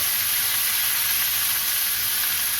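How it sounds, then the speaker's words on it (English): Chicken sizzling hard in a hot pan for a good crispy sear, a steady loud frying hiss running unbroken throughout with no talking. "I'm going to get a good sear, because you want them to be kind of crispy on the outside."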